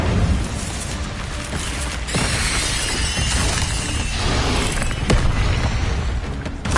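A fiery Incendio spell in Hogwarts Legacy bursts with a shattering whoosh and crackling roar, loud and dense, followed by rumbling flames and a second sharp crack near the end.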